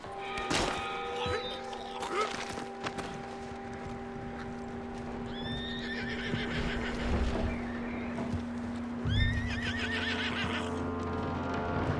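Horse neighs and whinnies several times in the Red Dead Redemption 2 video game, with clip-clopping hooves and steady background tones, fairly close and clear, with no talking.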